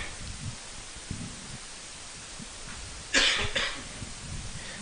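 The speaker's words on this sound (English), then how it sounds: "Don't you be coughing on my broadcast" A single harsh cough bursts out close to the microphone at a school softball game broadcast, briefly loud over a low background of crowd murmur and faint thumps.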